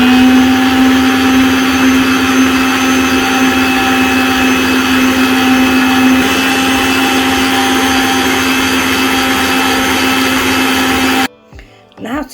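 Electric mixer beating red velvet cake batter, a loud steady motor whine with a strong constant hum, running continuously for about eleven seconds before cutting off abruptly.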